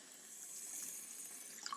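Water runs from a tap into a pot of beans, a faint, steady hissing splash with a few small drips near the end, with no one talking.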